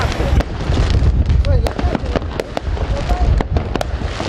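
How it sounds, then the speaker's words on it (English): Fireworks bursting during Diwali night celebrations, a dense run of sharp cracks and pops at varying distances over a constant crowded rumble, with whistling rockets rising and voices mixed into the festive din. "The night sky was lit up with fireworks of every kind imaginable."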